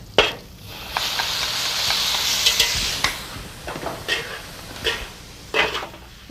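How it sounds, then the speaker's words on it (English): Beef being stir-fried in a hot wok with Chinese rice wine added, giving a steady loud sizzle and hiss broken by sharp scraping stirs of the utensil against the pan, close up. "Now, and just before cooking, we add the Chinese rice wine."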